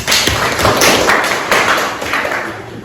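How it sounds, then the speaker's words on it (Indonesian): Classroom applause at a vocational high school as students clap for a presenting group, a loud close burst of hand claps and taps that gradually thins out. "Tepuk tangan dulu untuk kelompok 2."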